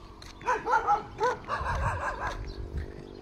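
A dog barks and yips in a Thai village in Nakhon Phanom at morning, a run of several close, high, whining barks followed by lower, rougher barking, with faint background noise.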